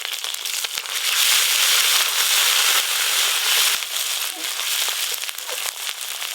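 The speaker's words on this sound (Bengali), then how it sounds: "আমি ফোড়ন করে নেব তেজপাতা শুকনো লঙ্কা গোটা জিরে" Bay leaf, dried chilli and whole cumin crackling in hot oil: a dense, loud sizzle with scattered sharp pops, steady across the whole stretch.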